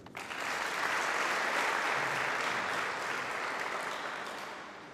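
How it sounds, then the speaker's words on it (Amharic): A crowd at a state farewell ceremony for Olympic athletes at the palace breaks into sustained, dense applause that swells quickly, holds steady and slowly fades toward the end. "ደግማችሁ አጨብጭቡ"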